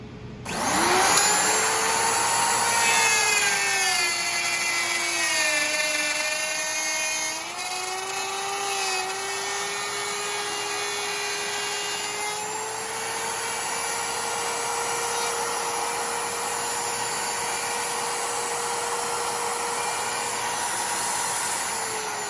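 A router cuts a top mortise in ukulele wood, a loud whining motor drone that shifts pitch as the bit bites and moves along the cut, then settles into a long steady hum, close and without talk.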